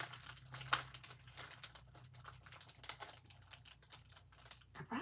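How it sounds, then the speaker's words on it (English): A sticker slowly peeled off a Happy Planner box, close, crackly tearing and crinkling in quick irregular bursts, fairly quiet. "I'm gonna try to peel the sticker off."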